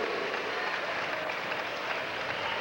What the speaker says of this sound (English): the crowd that has been yanked to high levels has plummeted a bit